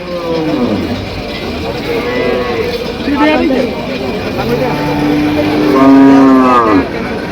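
A Haryana-cross dairy cow moos several long, loud, close calls at a busy cattle market in Cumilla, over the babble of the crowd and people talking nearby.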